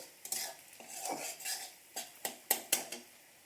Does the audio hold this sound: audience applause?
no